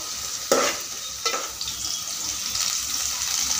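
Onion hits hot oil in a pot and sizzles, a sharp burst of frying followed by stirring scrapes and a steady crackling hiss, close and moderately loud with no talking.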